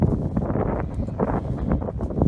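Gusty wind buffets the microphone outdoors on open farmland, with uneven rumbling bursts rising and falling throughout, loud and close.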